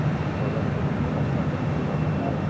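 Jet airliner rolling for takeoff on runway 24 left at Los Angeles International Airport, a steady broad roar heard from a distance with no change in level.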